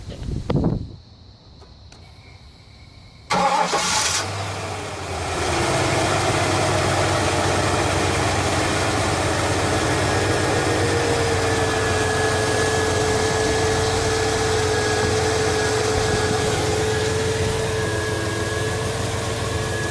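A 1983 Buick LeSabre wagon with a swapped-in LT1 V8 cranks, catches, and settles into a loud, steady idle that holds for the rest of the stretch after a brief quiet start.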